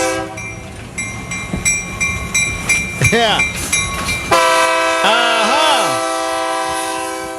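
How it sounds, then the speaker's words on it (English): A real train rolls past with its horn blaring in long sustained chords, wheels clattering rhythmically underneath, loud and close, before the horn fades and bends away as the train moves off; a brief voice is heard. "I have a new train sound effect"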